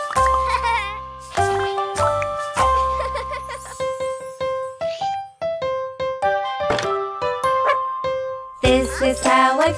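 Cartoon dog barking in a children's nursery song about pets, short yips and barks mixed with bright playful music notes and chimes, loud and close throughout.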